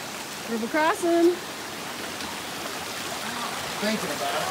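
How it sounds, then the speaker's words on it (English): A river at a trail crossing in the White Mountains of New Hampshire rushes with a steady broadband wash of flowing water, while a person briefly speaks over it near the start. "River crossing."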